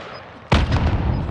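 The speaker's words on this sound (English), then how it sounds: "I'm throwing a frag." A frag grenade explodes in Call of Duty: Modern Warfare with a sudden loud, close boom that rolls into a sustained rumbling tail of debris and gunfire-like crackle after a quiet lead-in.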